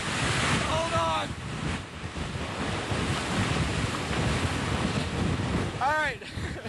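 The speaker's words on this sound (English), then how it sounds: "Wow, that was a heck of a gust." Strong hurricane wind gust roaring during Hurricane Ike, a loud, sustained broadband rush buffeting the microphone for several seconds, with brief squeaky tones near the start and end.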